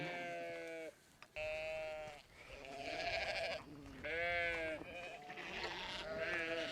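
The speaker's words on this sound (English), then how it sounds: "And our sheep know what's happening." Sheep on a regenerative farm pasture bleat repeatedly, several overlapping calls close by in an irregular rhythm, with little else around them.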